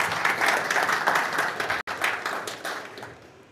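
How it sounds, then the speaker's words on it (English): An audience at a strategic plan launch event applauding, a full burst of clapping from many hands that holds steady, briefly cuts out, then tapers off toward the end. "So may we just clap for Pacida for that."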